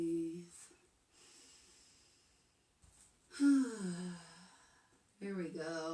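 Slow, deep yoga breaths, a long audible inhale and exhale with a soft sighing tone, close and calm, with quiet pauses between breaths.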